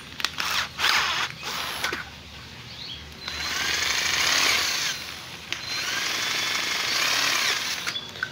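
A power drill bores a larger hole in a miniature beam built to hold a servo, grinding in several short bursts and then two long, loud, steady runs close by.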